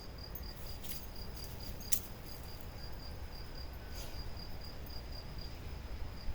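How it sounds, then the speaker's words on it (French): Crickets chirp in a steady, high, continuous trill over a soft outdoor hiss, with a few brief sharp clicks along the way, heard from a hammock outdoors. "C'est les grillons que j'entends déjà."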